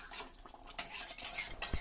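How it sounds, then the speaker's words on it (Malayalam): A spoon scrapes and clinks against a pot while handi chicken ingredients are stirred, a few quiet, brief strokes with light metallic taps and no voices. "ഇനി നന്നായിട്ട് നമുക്കത് ഒന്ന് ചേരുവകളൊക്കെ ഒന്ന് ചേരാനായിട്ട് നന്നായിട്ട് ഇളക്കി കൊടുക്കാം."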